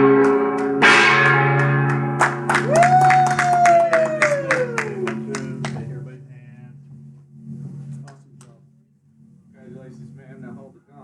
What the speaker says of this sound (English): Now hold the gong.